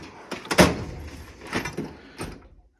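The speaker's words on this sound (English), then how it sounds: "A messy screwdriver drawer that clearly needs sorting out" A workshop drawer packed with screwdrivers, bits and torque tools is pulled open: a sharp sliding clatter, then two softer rattling bumps of the contents settling, close by with no talking.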